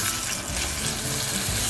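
Tomahawk steak just flipped and searing in a hot pan, a steady broadband sizzle and hiss holding at an even level throughout, close up, with no voices.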